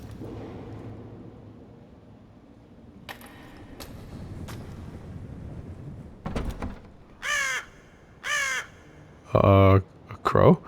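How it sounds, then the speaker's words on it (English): Crows caw in the video game Spirit Hunter: Death Mark, a run of loud, harsh calls coming in separate bursts after a quiet, eerie stretch. "A crow? A bird cry breaks the silence. I guess there's a crow or something outside."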